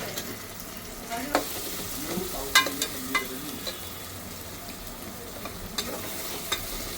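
Green chilies frying in gravy in a pan for chicken pulao with potatoes, a moderate sizzle broken by repeated clattering spoon stirs, with no voices.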